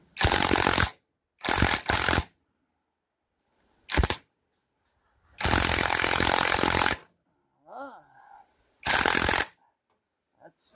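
A ratchet and socket work a long bolt out of a Peugeot 404 gearbox, loud bursts of rapid clicking ratcheting separated by silences, with a brief voice-like murmur between bursts.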